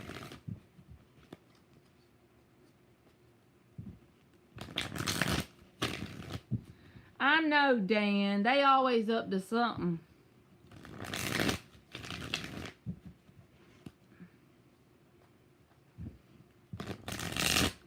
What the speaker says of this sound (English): Three more shuffles.